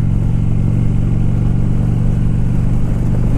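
Motorcycle engine while riding, giving a steady, loud, low droning hum with a constant rhythm and no voices.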